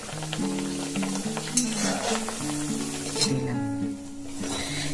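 Dhakai paratha frying in plenty of oil in a pan gives a continuous bright sizzle with a few spits and pops, over a steady tonal drone in the background.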